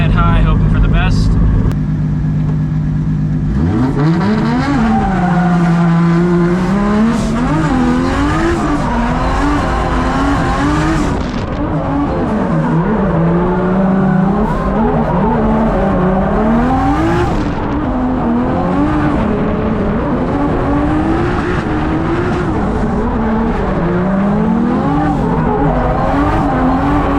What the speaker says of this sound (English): This is a JZ powered coupe and a supercharged LS hatch.